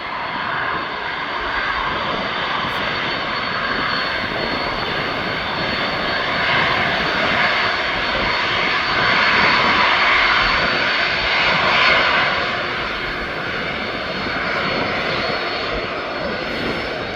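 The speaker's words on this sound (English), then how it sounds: "Yeah, it's turning in front of me. What a beautiful aircraft this is." A plane's engines hum and whine steadily as it turns on the taxiway at East Midlands Airport, a loud continuous drone that swells slightly in the middle and then eases.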